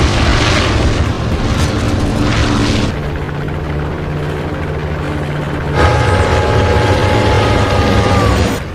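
Airplane engines roar loudly and steadily, the thrust dipping in the middle before swelling again with a rising whine as the aircraft readies for takeoff in a film scene.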